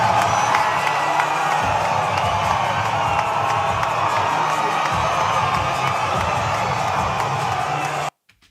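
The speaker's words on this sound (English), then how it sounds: "Thunderous applause, surrounded by people" A large rally crowd cheers and whoops loudly and steadily for about eight seconds, a dense wall of voices with scattered clapping, then cuts off abruptly near the end.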